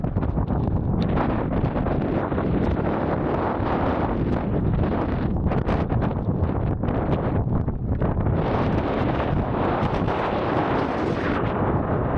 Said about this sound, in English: Breezy up there.